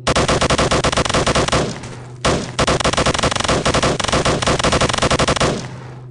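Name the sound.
machine gun firing in video game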